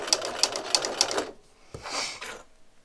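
A sewing machine stitching a circle, giving a quick run of rapid rhythmic mechanical clicks, then a short pause and a couple of softer whirring bursts, close and fairly quiet.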